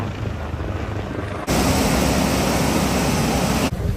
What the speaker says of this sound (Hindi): हेलीकॉप्टर भी पानी में नहाते नहाते जा रहा है भाई